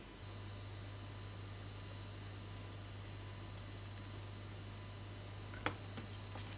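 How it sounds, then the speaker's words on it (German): Apple fritters frying in melted butter in a pan, a steady soft sizzle with a low constant hum beneath, one brief clatter near the end, no talking. "Und wenn die Butter dann geschmolzen ist, könnt ihr dann so, mit einem Löffel am besten, diesen Apfelküchel da reinlegen und von beiden Seiten goldbraun backen."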